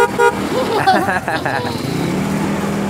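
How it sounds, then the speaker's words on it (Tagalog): A Bosch horn fitted to a motorcycle during a makeover sounds in a few short honks near the start, with voices talking and engine and shop noise continuing underneath. "Bosch yung busina mo."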